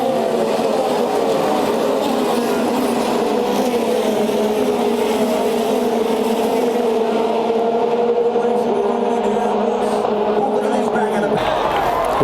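Race cars stream past in single file on an oval at speed, a steady roar of engines layered over crowd noise with a commentator talking throughout; the sound sustains, then drops away near the end.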